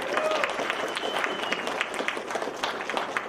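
Audience applause at a welcoming ceremony honoring a community spotlight and beauty guest, steady dense clapping from a room full of people, with some voices mixed in throughout.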